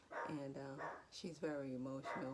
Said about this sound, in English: If you hear that barking, that's our new puppy